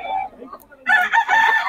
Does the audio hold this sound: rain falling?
no